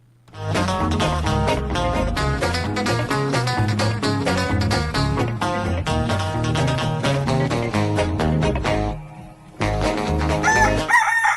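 A rooster crows repeatedly at about six in the morning in rural Pangasinan, loud and sustained, blended with dense, steady background sound throughout.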